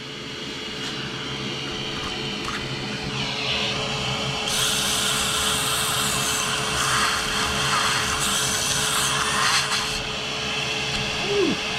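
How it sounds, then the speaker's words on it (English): A power sander with a brand-new sanding pad whirs steadily at moderate volume on a Brunswick Endeavor bowling ball, its pitch rising as it bites into the surface, with a faint voice underneath. "I just put a brand new sanding pad on there, so we gotta break it in here."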